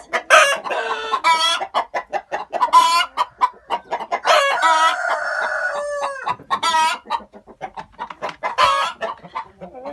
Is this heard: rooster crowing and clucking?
yes